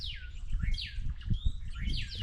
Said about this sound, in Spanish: ¿escuchan los pajaritos?